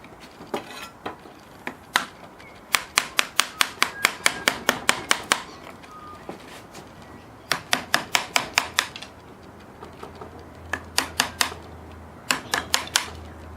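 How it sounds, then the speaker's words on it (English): Chisel strikes cutting into a wooden Australian native bee hive box during a hive split, sharp percussive taps in quick bursts of rapid blows separated by short pauses, close and loud with a faint low hum beneath. "Do it with the chisel, actually."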